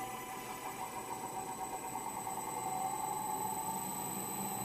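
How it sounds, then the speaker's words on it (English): Electric motor of a lab wind tunnel ramping up to full speed: a faint, steady mechanical hum with sustained tonal whines and a slowly rising drone, with no talk. "it's going to ramp up to the full speed and wait for about 30 seconds for it to get stabilized."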